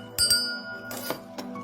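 Small ritual bell from a French spiritual shop, several bright metallic rings that shimmer and decay, with a sustained high tone ringing between strikes.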